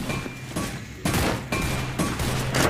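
MP5 gunfire in a Free Fire-style mobile shooter comes as loud, dense automatic bursts, several rapid volleys back to back with continuous game noise around them.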